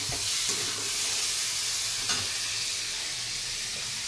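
Pieces of pointed gourd (potol) fry in a pan, producing a soft, continuous sizzle and hiss with occasional light scraping as they are stirred.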